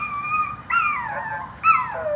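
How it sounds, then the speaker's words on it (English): Dog giving three drawn-out whining howls, each rising and sliding down in pitch, fairly close and clear over a low background hum. "Well, dog started barking."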